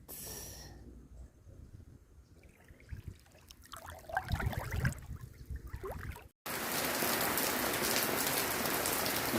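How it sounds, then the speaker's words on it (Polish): Heavy downpour in Costa Rica, first a patter of drops with louder splashes and dripping, then after a brief cut a dense, steady hiss of pouring rain; no one speaks. "Znowu ulewa."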